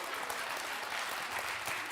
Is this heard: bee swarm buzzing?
no